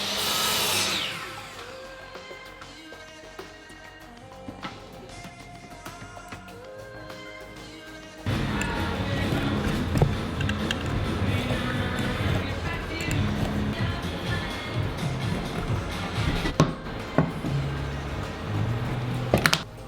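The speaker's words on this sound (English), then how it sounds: "The majority of the waste was removed at the drill press" A drill press boring mortises into hardwood stock for coffee table leg joinery, a steady loud mechanical whir starting partway through after quieter tonal hum, with occasional sharp clicks and thumps.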